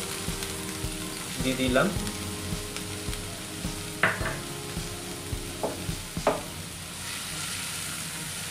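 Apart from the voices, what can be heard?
frying chopped onions for Schezwan fried rice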